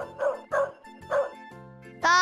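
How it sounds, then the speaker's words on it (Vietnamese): A mother dog gives three short, sharp barks close by, then a longer, higher whining yelp, with no voices. "Con chó mẹ."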